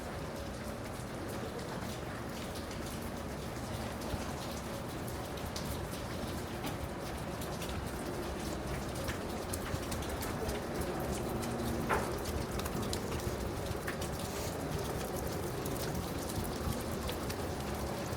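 Steady rain falls at the St. Maarten cruise port as an even, dense hiss with soft scattered drops, while a pigeon coos faintly in the background and no one speaks.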